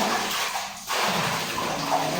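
Water splashed from a dipper during a bath: a loud, continuous pouring rush that breaks off briefly and resumes, close and alone.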